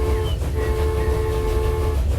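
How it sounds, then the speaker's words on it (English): A slow train in the transport game Transport Fever rumbles steadily with a low, heavy drone and faint tonal whine, close and loud, without speech. "A little podunk slow donkey train here."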